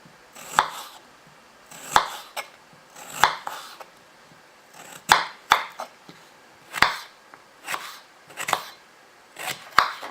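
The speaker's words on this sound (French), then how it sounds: "Une fois toutes les pommes de terre épluchées, on va venir les couper en rondelles." A knife slices peeled potatoes into thin rounds for a gratin dauphinois, giving sharp, close chops at a steady, unhurried rhythm with quiet pauses between cuts and no talking.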